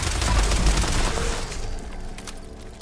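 Anti-armor explosive pipe rifle firing in a video game, a loud burst of heavy blasts and rapid reports in the first half that fades into a rumbling tail of lighter crackle.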